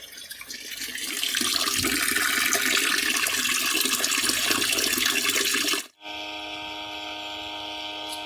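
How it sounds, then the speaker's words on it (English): A small garden water pump empties a container with a steady rushing, gushing flow of water, loud and close, then cuts off abruptly and leaves a low humming drone behind. "This is a very hard working little pump in there."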